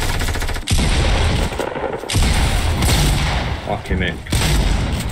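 Gunfire in a Fortnite match cracks out in loud, rapid bursts of shots broken by brief pauses, with a player's voice talking over the shooting.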